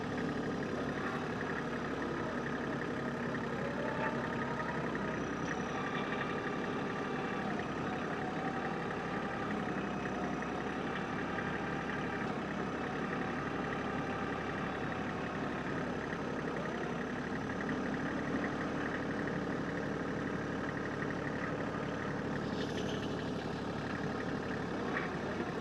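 A steady engine idles and rumbles continuously throughout, a constant low mechanical drone with no voices.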